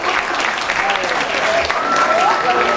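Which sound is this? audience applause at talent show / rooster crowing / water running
audience applause at talent show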